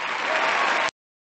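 A short applause sound effect played over a TeamSpeak voice chat: a burst of crowd clapping and cheering that stops abruptly after under a second, followed by silence.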